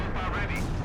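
A single short, sharp blast from a light Gammon bomb in Company of Heroes 2 crackles across the battlefield, close and loud, layered over busy game noise.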